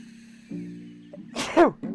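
A single short sneeze bursts out after a low hum, close and fairly soft, followed by a brief voiced sound.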